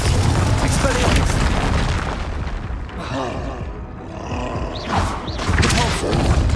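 Spell impact in Hogwarts Legacy combat: a dense, continuous rumble of booming blasts and thuds, loud and close, layered with swelling magical whooshes.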